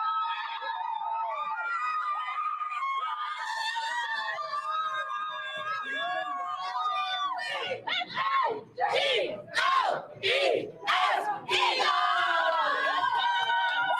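Eagles fans in Fort Washington celebrate a Super Bowl win with sustained cheering, whistling and wailing sirens, punctuated late by rhythmic chanting bursts and a loud crowd roar.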